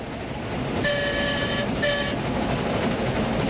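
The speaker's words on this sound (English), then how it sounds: "A whistle in the cab indicates the train is nearing a crossover" Two blasts of a steam locomotive whistle, the first longer, sounding over the constant heavy rumble and chugging of a moving train climbing a hill.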